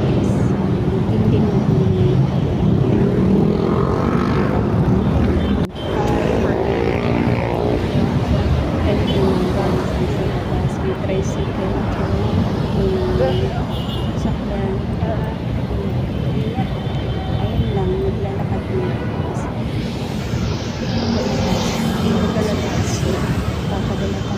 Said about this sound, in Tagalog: sa labas ayan sobrang busy maraming mga sasakyan